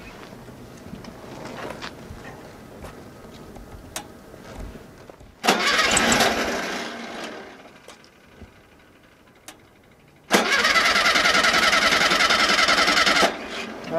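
A 1969 VW Classic Beetle engine is turned over at the roadside, with two loud bursts of cranking and engine noise separated by quieter stretches of faint clicking and rumble, close by and with no talking.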